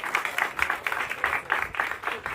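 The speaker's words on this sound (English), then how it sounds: "Let's give them a round of applause." Crowd applause at a ribbon cutting ceremony for Texas Healthcare Imaging in Weslaco, Texas, a steady dense patter of many hands clapping together, moderately loud and continuous throughout with no talking.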